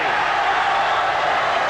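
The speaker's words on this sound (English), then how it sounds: "Cheers from the crowd." Crowd noise at a darts match, a brief steady roar of cheering voices filling the whole moment, loud and close with no distinct individual words.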